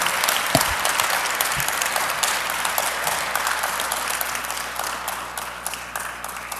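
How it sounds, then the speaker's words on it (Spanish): Dense, sustained applause from an audience at a formal panel event fills the room, steady and loud throughout as panelists receive a recognition and gift. "Un aplauso, por favor."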